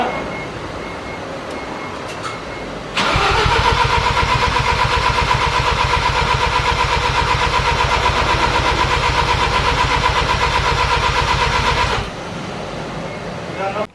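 A Mazda FD RX7 rotary engine cranks with a loud, steady, rhythmic whirring for about nine seconds before cutting off, with quieter background before and after.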